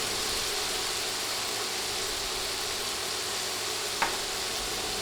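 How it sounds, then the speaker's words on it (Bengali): Garlic paste frying in hot oil for a fish curry, a steady broadband sizzle held evenly throughout, with one brief sharp tick near the end and no voices. "রসুন বাটা বিশ সেকেন্ড ভেজে নিচ্ছি"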